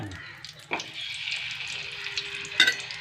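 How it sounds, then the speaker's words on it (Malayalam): Plantain pieces fry in hot butter with a close, even hiss, marked by a few scrapes and a bright clink of a utensil against the pan. There are no voices. "ആദ്യം നമ്മൾ കായ ഇട്ട് കൊടുക്കുക വെണ്ണ ചൂടായിട്ടാ"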